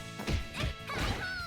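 Heavy smash-and-crash impact hits from a Shatter Strike in King of Fighters XV, three loud whacks in quick succession with a short ringing tone at the end.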